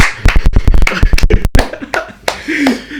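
Hands clapping in a casual podcast setting, a quick run of sharp, close claps in an uneven rhythm, followed by a few scattered louder claps with brief voice sounds between them.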